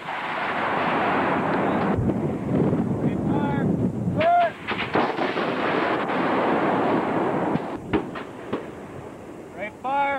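A Carl Gustav recoilless rifle is fired by Army Rangers on a windy range: a loud, booming blast followed by rumbling echo and wind buffeting, with brief shouted commands afterward.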